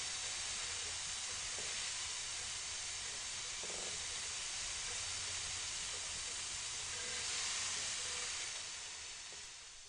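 Mice cooking in the video game burg give off a steady, fairly faint sizzling hiss of steam that runs unbroken, swelling slightly near the end before fading.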